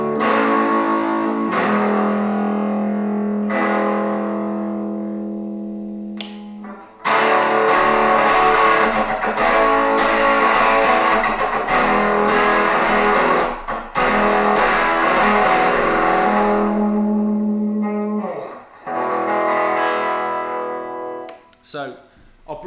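A Gretsch electric guitar played through distortion rings out in strummed chords and sustained notes, loud and close, with a few brief pauses between phrases.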